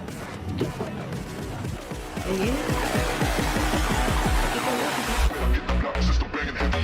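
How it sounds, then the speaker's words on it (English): A Ferrari 812 Superfast at extreme speed roars with a rising engine note and screeching tyres, then a sudden heavy impact and crunching debris as it slams into a shop house. "Loses control at extreme speed and crashes straight into a random shop house"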